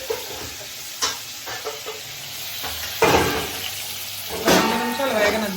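Dried vanjaram fish pieces fry in an oiled pan, a steady sizzle broken by a few louder clinks and scrapes as they are nudged, all heard close up.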